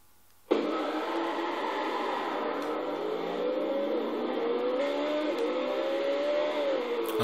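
Racing car engine from Forza Horizon 4, an R2-class rally car, droning steadily after a sudden start, its pitch climbing and settling as it drives with no talk over it.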